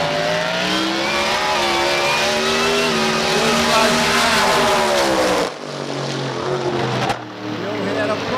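A 1957 Chevy drag racing car roars down a dragway, its loud engine climbing steadily in pitch before cutting off abruptly, leaving a lower rumble and crowd noise.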